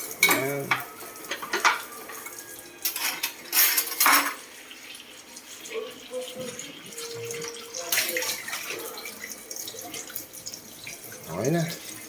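Plates and a cooking pot are washed at a tap, with running water, clinking dishes and scraping in irregular bursts. Voices talk over it throughout.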